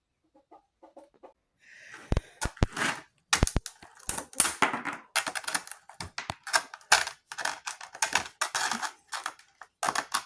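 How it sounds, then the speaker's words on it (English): Goopy yellow paint is scraped off sandpaper in short, sharp, irregular bursts of scratchy clicks and rasps, close and fairly loud, with a few faint ticks before the scraping starts. "So I'm going to scrape that and carry on."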